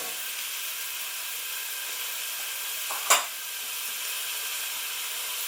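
Fresh herbs frying over low heat in a pan for a pasta sauce, a soft continuous sizzle and hiss with one brief louder crackle partway through.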